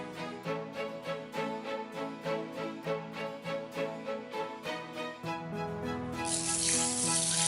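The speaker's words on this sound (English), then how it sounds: "rinse the rice with water until the water gets clear" Mochi rice being rinsed under a running kitchen tap, a steady broadband rush of water rising loudly near the end over rhythmic background music.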